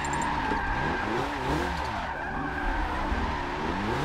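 Continuous tire skidding and squealing over a steady revving engine, loud and close, as a wide-body MK5 car slides through a drift in a video game.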